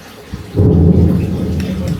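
A sudden deep rumble of thunder rolls in after a quiet moment and keeps grumbling, loud and close.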